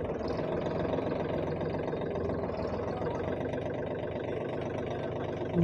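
A Mahindra Oja 2127 27 HP tractor engine runs steadily at idle, a constant close rumble with no breaks and no talk over it.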